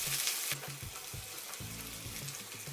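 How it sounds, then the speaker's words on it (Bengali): Chopped onion and split green chilies fry in hot oil with whole cumin and black cumin seeds, a steady close sizzle with occasional stirring scrapes, and a louder hiss at the very start. "এবার দিব কুচি করা পেঁয়াজ ও দুফাক করা কাঁচামরিচ, সবগুলো ভেজে নিব।"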